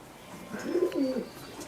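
Madrasi Kalanka pigeons coo softly in a short, low rolling call that swells and fades within about a second, close by with no talk.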